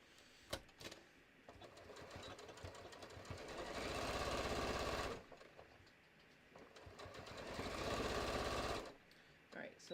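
A sewing machine top stitches a bucket hat seam in two loud bursts of rapid mechanical whirring, separated by a pause with some clicks and handling sounds.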